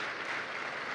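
A crowd applauds at the Iowa State Fair, a steady wash of clapping that holds at an even level throughout.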